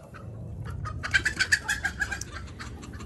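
Cochin chickens coo and cluck nearby in a short burst of repeated calls, fairly faint and otherwise quiet.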